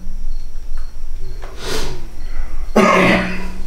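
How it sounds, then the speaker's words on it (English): A single sharp cough bursts out near the end, preceded by a few fainter throat and breath noises in a quiet room. "I heard a cough"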